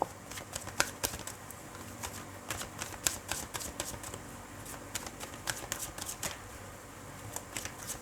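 Tarot cards shuffled by hand, a steady close riffling patter of rapid card flicks with sharper snaps scattered throughout, continuous and fairly quiet, with no voices.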